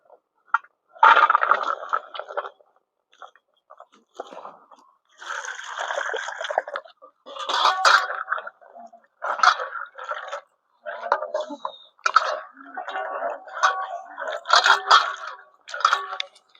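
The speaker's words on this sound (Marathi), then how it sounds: "तर आता चांगली धुवून घेऊ आपण" Karvanda berries washed by hand in water outdoors, irregular bursts of splashing and sloshing with brief pauses between, close and moderately loud.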